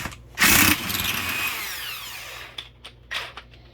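An impact gun hits transmission bolts on a 2003 Honda Accord during a teardown, a loud close burst followed by a fading whine and a few shorter rattling hits.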